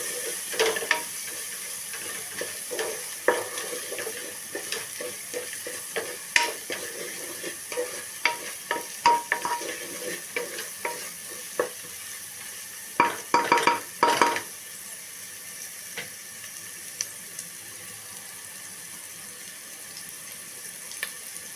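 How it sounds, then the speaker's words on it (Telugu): Potato and brinjal frying in a pan with chili powder, a steady close sizzle under repeated scraping and clinking stirs, with a brief cluster of louder knocks near the end. "వేసుకుని కొంచెం అలా వేపుకోవాలి"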